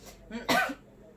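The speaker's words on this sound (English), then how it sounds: "I coughed. I'm sorry." A single close, sharp cough bursts into the microphone during a podcast recording, with quieter breathy sounds just before and after.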